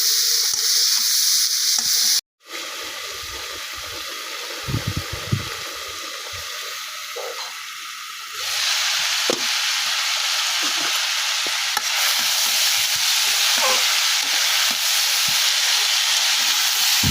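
Bottle gourd frying in a pan on a village cooking setup, a continuous bright sizzle with occasional stirring scrapes, briefly cut out once early on and growing louder and fuller in the second half.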